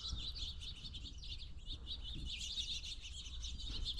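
Two female cardinals chirp at a watering hole in a Texas canyon park, a continuous busy stream of high tweets and short calls over a low rumble of water and wind, fairly close, with no talk.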